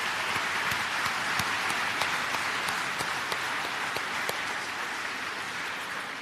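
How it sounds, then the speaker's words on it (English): An audience at a foundation finals event gives a round of applause, a sustained wash of clapping from a large crowd with a few sharper individual claps standing out, steady and moderately loud throughout. "Anu a big round of applause"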